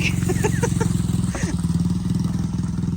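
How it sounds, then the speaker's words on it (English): A dirt bike engine runs at a steady idle-like putter, a low rhythmic throbbing engine note that continues throughout the clip, moderately close, with faint clattering on top. "That is my son on his dirt bike."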